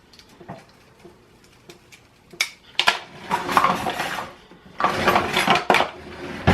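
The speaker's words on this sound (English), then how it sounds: "So this is a half a teaspoon. So let's use this." A metal half-teaspoon measure scoops and taps against spice jars and dishes while preparing refrigerator pickles, giving close clinks, scrapes and rattling bursts of pouring spices, with no talk.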